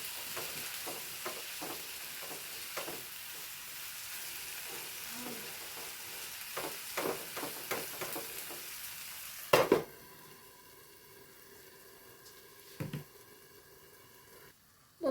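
Onions and masala frying in a pan for a Kerala fish pollichathu, a soft sizzle with occasional stirring scrapes, then a quieter pause broken by a few clanks of the lid or pan.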